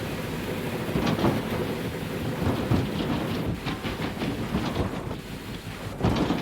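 Steady rain and low rumbling thunder fill the scene in the video game Gold Rush, a continuous broad wash with swelling rolls and no speech.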